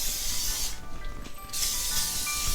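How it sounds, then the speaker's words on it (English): A steady hissing spray of avocado oil onto a pan, broken by a short pause midway before the spray resumes, close and loud. "I'm gonna spray my pan again"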